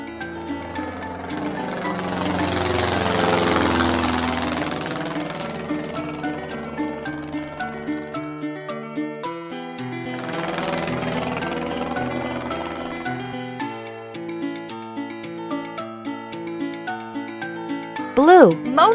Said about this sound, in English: Blue, sporting airplane.